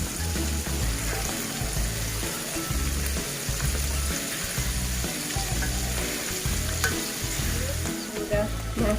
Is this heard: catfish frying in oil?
yes